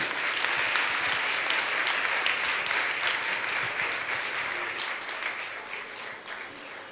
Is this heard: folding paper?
no